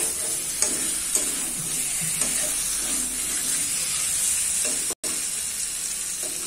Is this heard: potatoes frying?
yes